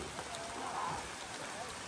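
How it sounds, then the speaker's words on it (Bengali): Heavy rain in Sajek Valley pours down steadily and close, a dense even patter filling every moment. "এখানে ঝুম বৃষ্টি শুরু হয়ে গিয়েছে"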